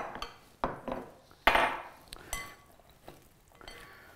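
Ingredients being mixed by hand in a bowl before going into a Kuvings B8000 juicer, with a series of sharp clinks and knocks of a utensil against the bowl, fairly close and spaced irregularly, without talk.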